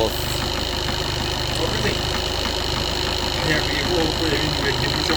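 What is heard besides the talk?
Skoda Octavia TDI diesel engine knocking on cold start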